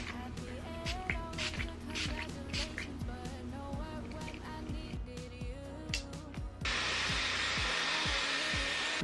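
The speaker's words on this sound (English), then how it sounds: "Next item I want to introduce is Dyson's Airwrap." Dyson Airwrap hair styler blowing, a steady airy whoosh that switches on loudly near the end, after a stretch of clattering, tapping handling noises and a faint background voice.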